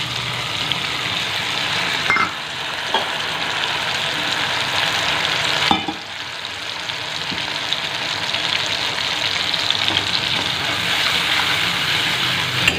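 Ground poppy seed paste dropped into tomato frying in a pan, giving a steady loud sizzle with a couple of brief disturbances as the paste goes in and is moved about, with no talking.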